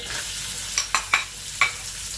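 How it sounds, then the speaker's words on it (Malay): Garlic and Holland onions sautéing in a pan, a steady sizzle with a few sharp clinks and scrapes of a spatula stirring, close and fairly loud with no talk. "Kita tumiskan bawang putih, kita masukkan bawang Hockland."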